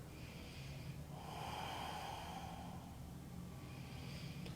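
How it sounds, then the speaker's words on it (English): Slow ujjayi breathing during a yoga twisting lunge, a soft close hissing inhale and exhale with a throaty rushing texture. "A couple rounds of slow ujjayi breath here."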